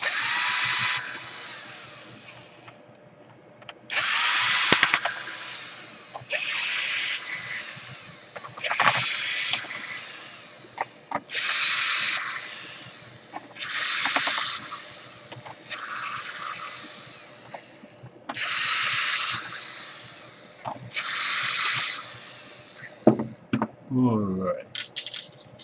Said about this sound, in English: So let's unscrew everything here.